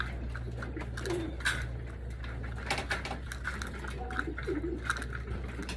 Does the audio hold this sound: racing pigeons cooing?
yes